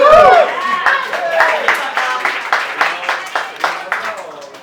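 An audience claps for volunteers, starting with a short burst of mixed sound, then settling into a steady run of loud, even claps that continue through the clip.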